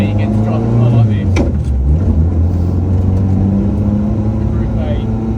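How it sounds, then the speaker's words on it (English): A Group A Lancia Delta Integrale rally car from 1993 driving on the road, its engine a loud, steady close drone with a brief rise in revs, heard from inside the cabin. "it's not every day you get to drive a car like this"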